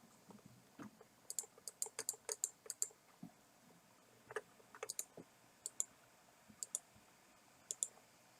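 Quiet computer mouse clicks come in irregular clusters, single and double taps spaced across several seconds, close and faint against a silent room.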